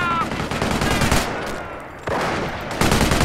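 Machine gun fire in the World War II strategy game Company of Heroes: Eastern Front, a dense, steady rattle of rapid shots that swells louder in bursts near the end, with no voices over it.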